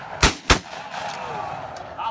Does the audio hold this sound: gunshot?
yes